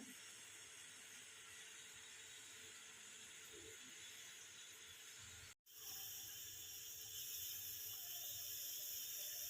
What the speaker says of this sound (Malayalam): വെള്ളം നന്നായിട്ട് തിളച്ച് ആവി വരാൻ തുടങ്ങിയിട്ടുണ്ട്